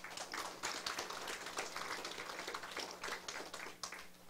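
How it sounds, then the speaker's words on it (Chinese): An audience applauds at a closing ceremony of a Taiwan civil government senior administrative council session, with dense, steady clapping that holds through the whole stretch and no voices. "咱甲鼓掌一下。"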